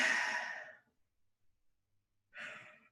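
A person yawns during a relaxed conversation: a long, breathy exhalation that fades out, then a pause and a second, shorter breathy sound near the end, close to the microphone.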